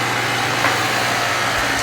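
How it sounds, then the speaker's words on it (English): An automatic booster water pump in a cabin hums steadily at close range, a continuous motor drone with faint vibration and no voices. "you will hear instantly the booster pump is gonna turn on to increase the pressure"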